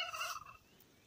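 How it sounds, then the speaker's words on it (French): Turkey hen gobbling near her nest on a farm plot beside the henhouse, a single short, faint warbling call that fades within half a second into quiet. "J'ai une dinde qui a fait ses œufs là."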